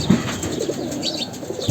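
Pigeons coo in a loft, soft low coos at the start and end, with a rustle of wings and faint chirps between, close by.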